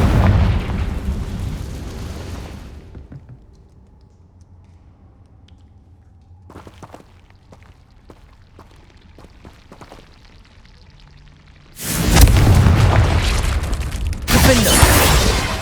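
Confringo spell blasts in the Hogwarts Legacy video game, with loud broadband bursts at the start and again near the end and a quieter stretch of scattered clicks and crackles between them.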